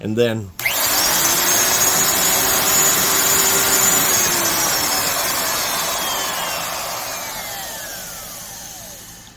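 A Bosch 1618 magnesium mid-size D-handle router motor switches on with a sharp start, then runs as a loud, steady high-pitched whine that slowly winds down, with brief talk just before it starts.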